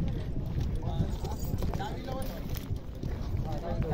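Horse hooves clopping on the ground at a horse and bullock race in Lasalgaon Ambegaon, a steady run of hoofbeats under crowd voices and wind noise.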